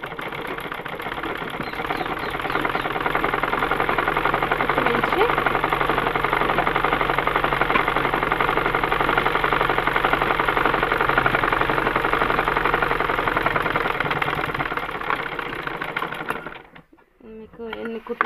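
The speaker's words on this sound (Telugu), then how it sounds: "క్లాత్ని తిప్పి నీట్గా ఈ కుట్టు మించే కుట్టు వేయాలి." A sewing machine stitches cloth for a simple dress in a steady, fast mechanical whir that runs continuously for about fifteen seconds, then slows and stops near the end.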